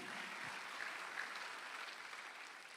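A church congregation at a Sunday afternoon service claps together, a faint, distant, even wash of applause that holds steady and then slowly fades.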